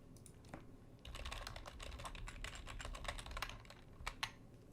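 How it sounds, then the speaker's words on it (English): Soft keystrokes on a computer keyboard as a password is typed, a steady quick patter of clicks with a couple of sharper taps near the end, faint and close. "Type in the password."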